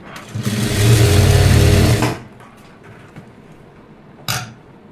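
An electric sewing machine stitching a blouse sleeve, one loud steady whirring run of about two seconds, then quiet with a short burst near the end, no talking.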